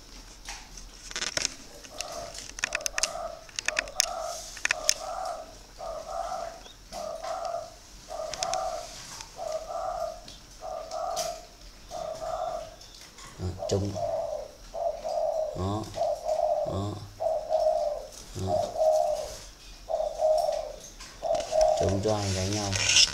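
Young spotted dove chicks kept in a cage on straw bedding coo in soft, repeated rhythmic phrases, with light chirps and occasional patter, while someone talks over them intermittently.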